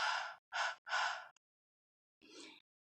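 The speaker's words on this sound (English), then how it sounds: "reconstitute this with the moisture from my breath" Breath is huffed onto tacky nail polish in three quick, close, airy puffs, followed after a pause by one softer, breathier exhale.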